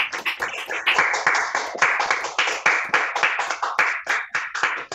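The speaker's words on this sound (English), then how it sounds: "if we could just go one more round of applause for Vicki Iorio, Denise Duhamel, and Josie Bello" A round of applause for poets: a small group clapping close and loud, with distinct, fairly regular individual claps in a lively rhythm throughout.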